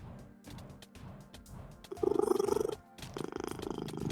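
A house cat purring close by, a rhythmic rumbling purr that swells in two louder bursts after quieter stretches, with faint background noise between.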